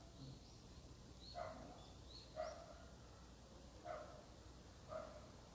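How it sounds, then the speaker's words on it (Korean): A dog barks outside a window, distant and faint, four or five single barks spaced a second or so apart over steady room hiss. "지금 저 창밖에 개 짖는 소리 들리죠?"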